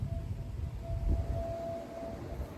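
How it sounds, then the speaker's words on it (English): An outdoor civil-defense warning siren holds a steady, thin tone in the distance beside a garden, sitting faintly above a low, rumbling outdoor background for the whole stretch. "I don't even know why they're running a siren right now."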